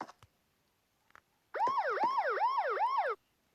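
Police car siren wailing in a fast rising and falling pattern, a loud nearby burst of about four cycles lasting under two seconds, preceded by a few faint taps.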